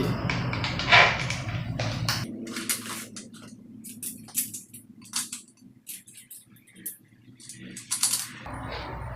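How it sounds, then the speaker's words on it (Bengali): A nut and bolt with a washer being tightened while a 12V rechargeable fan is built, heard as small metallic clicks, taps and ratcheting scrapes, close and intermittent, with a voice speaking at the start. "এই নাট বোল্টটি ভালো করে টাইট করে দিচ্ছি"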